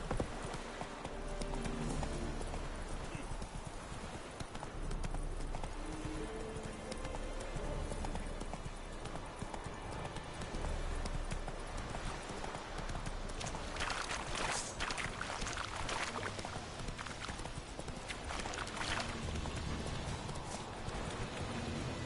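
Roach the horse trots steadily in The Witcher 3, hooves clip-clopping in a continuous rhythm up close, layered over game ambience and music with no speech.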